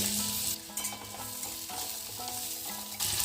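Chopped onions fry in hot oil in a karai, giving a steady close sizzle with stirring scrapes, under background music with no talk.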